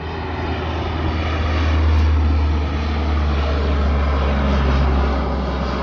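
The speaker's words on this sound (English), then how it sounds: "Alright, here's a cargo plane taking off." A cargo plane taking off at Anchorage airport, its loud engine roar swelling steadily with a deep low rumble and broad rushing noise, peaking near the middle and holding strong throughout, with no talking.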